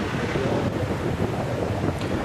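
High ocean waves at Batu Hiu beach in Pangandaran roar as a loud, continuous wash of surf, mixed with heavy wind buffeting the microphone and no break in the noise.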